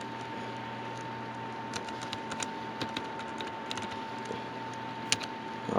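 Typing on a computer keyboard while entering a username and password during an Ubuntu install, heard as soft, scattered key clicks over a steady background hum, with no talking.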